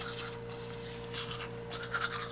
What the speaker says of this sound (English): so I've just been using, like, a normal toothbrush